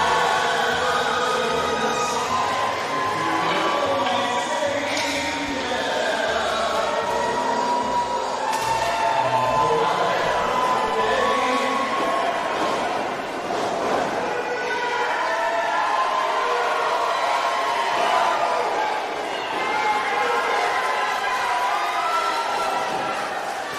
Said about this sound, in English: Listen to this Slatington crowd firmly behind SPF.